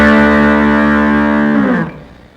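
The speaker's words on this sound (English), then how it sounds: "I'm adding a little distortion" A Fender Telecaster electric guitar through a distortion effect with a touch of amplifier reverb rings out as a single sustained, buzzy chord. It holds loud and steady, then cuts off near the end and fades into a short reverb tail.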